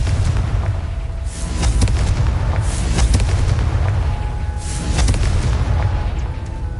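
Confringo spell blasts in a video game produce several deep booming explosions spaced a second or two apart, loud over a constant rumbling background.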